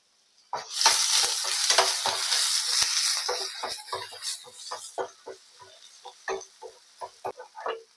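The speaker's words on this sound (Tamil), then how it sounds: "கொஞ்சம் எண்ணெய் கொஞ்சம் கூடவே ஊற்றிக்கலாம் வதங்கணும்ல வெங்காயம்" Onions and curry leaves sizzle and crackle in hot oil close by for egg masala, with scraping stirring strokes and pops; the hiss is loud at first, then settles.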